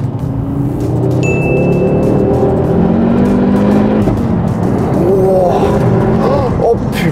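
A 400 hp Ford Focus RS accelerating hard from inside the cabin, a loud steady engine roar with rising pitch sweeps through gear changes and a brief turbo whistle, continuous throughout.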